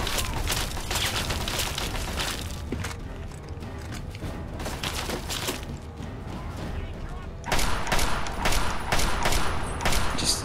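Gunfire in Fallout 3 comes as repeated cracking shots and bursts with mechanical clicks between them, growing louder and denser near the end, with a voice talking now and then.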